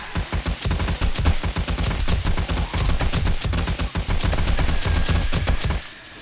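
M60 machine gun on full auto in the 7 Days to Die video game, a loud rapid stream of evenly spaced shots sustained for several seconds before stopping abruptly, with no talking.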